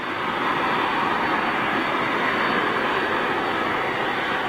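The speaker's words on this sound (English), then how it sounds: "Looks like KLM 737 just firing up, headed out to Amsterdam." KLM Boeing 737 jet departing Manchester Airport for Amsterdam, a broad, steady engine roar that holds constant and fairly loud from start to finish, with no voices.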